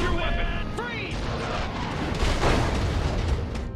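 A gun is blown up in Destroy All Humans!, a dense roaring mix of explosions and booms under continuous game noise, with voices mixed in.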